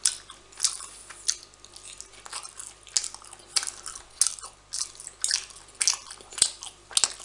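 Avocado and salmon sushi rolls are chewed close to the microphone, with soft repeated bites and wet mastication sounds in a quiet, steady rhythm.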